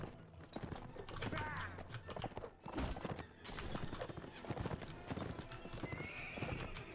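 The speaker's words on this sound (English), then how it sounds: "How can this horse even move?" A horse in the medieval battle game Mount & Blade: Warband, hooves clip-clopping at a gallop with loud neighing and whinnying, set against battle clatter and someone talking.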